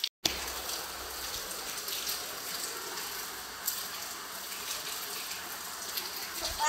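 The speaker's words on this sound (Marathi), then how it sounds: "बाहेर बघा किती पाऊस चालू आहे" Steady rain falls outside, a continuous broadband hiss that holds at an even level throughout with no talk over it.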